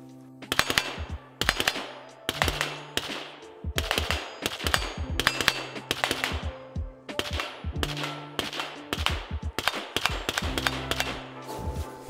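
A KAC CQB 11.5 rifle fitted with a KAC 5.56mm suppressor fires a long string of suppressed shots, sharp cracking reports in quick irregular bursts with brief pauses, close and fairly loud, no talking.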